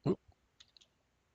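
One sharp computer mouse click while working in CAD drawing software, followed by a few faint, softer clicks, in an otherwise quiet room.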